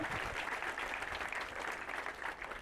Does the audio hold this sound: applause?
yes